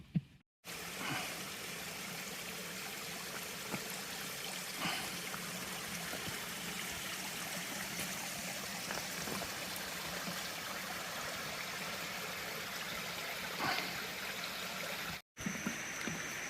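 Tye River flowing beneath a bridge along the Appalachian Trail in Virginia, a steady broadband rush of running water that stays near and even for most of the stretch, with a brief dropout near the end.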